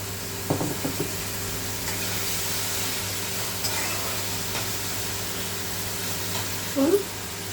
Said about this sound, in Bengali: একটু একটু একটু করে জল দিয়ে মশলাটাকে আমি কষাতে থাকি